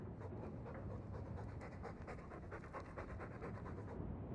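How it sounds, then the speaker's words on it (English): A dog in the fantasy video game Dragon Age II pants steadily and rapidly, a close, rhythmic huffing breath that continues for several seconds without any voices. "All that noisy dog breath, day in, day out."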